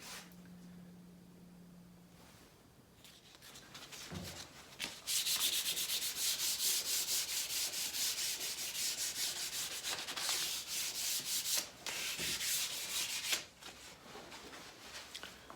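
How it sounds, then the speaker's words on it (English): Steady, fairly loud rasping of hand sanding an elm console table lightly with 220-grit sandpaper, long continuous strokes with brief pauses, close up and without talk. "I'm just going over the table with some 220 grit, really lightly"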